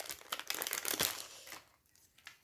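A sheet of green botanical-themed stickers is crinkled and handled up close, with dense crackling bursts peaking midway before trailing off into quieter rustles.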